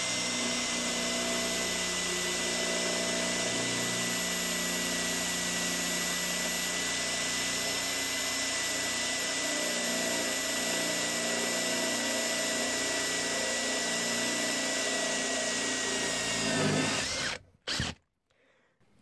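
A cordless drill with a DeWALT DT7926 HSS-G pilot-point bit whines steadily and loudly for about seventeen seconds on its second speed setting, then cuts off, followed by a couple of brief clunks.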